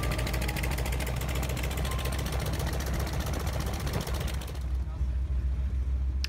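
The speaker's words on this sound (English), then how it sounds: "And as the engine is running and the generator is providing some power" A Curtiss-Wright R-1820-86B radial engine on a T-28 Trojan Fennec runs steadily at idle during startup, a loud continuous rumble with a dense rattling texture that quiets slightly near the end.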